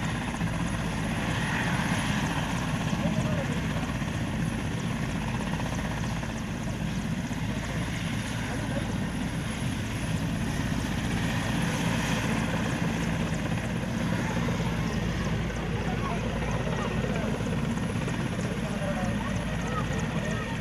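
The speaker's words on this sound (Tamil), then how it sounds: "திருவனந்தபுரத்திலிருந்து தனி ஹெலிகாப்டர் மூலமாக கன்னியாகுமரி வந்திருக்கின்ற பிரதமர் நரேந்திர மோடியினுடைய வருகை குறித்து" A helicopter carrying India's Prime Minister arrives at Kanyakumari, its steady, loud rotor and engine roar filling the scene without a break while a voice talks over it.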